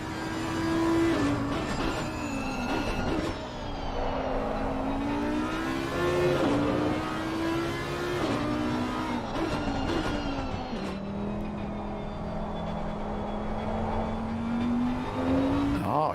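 A race car engine in a sim racing game at the Hungaroring drones and revs continuously, pitch rising and falling with throttle and gear changes, loud and close throughout with no voice over it.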